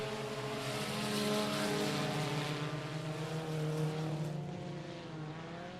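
Tuner race cars speeding down the front straightaway at I-37 Speedway, a loud sustained engine roar with a pitch that swells as they approach and fades slightly as they pass, no voices.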